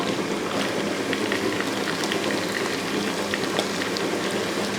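Sliced onions sizzling in hot oil in a pan for a bachelor-style chicken recipe, a steady close crackle and hiss with scattered pops, no talk.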